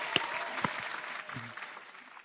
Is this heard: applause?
yes